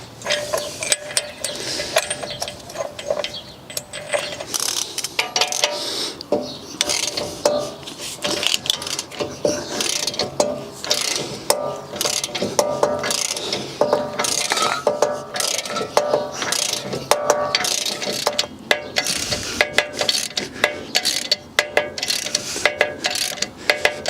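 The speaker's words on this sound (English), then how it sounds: "Wind this in and it should push the bearing into place." A hand press tool is wound in to push a rear wheel bearing into the hub of a BMW E90-series car, giving a steady run of ratcheting clicks and grinding mechanical rubs that continue without pause for the whole stretch, close and fairly loud.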